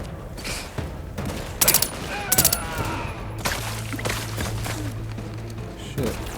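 Gunfire in the sci-fi shooter The Outer Worlds 2: two sharp, loud bursts of shots close by around the middle, then scattered fainter shots and game ambience with a low hum.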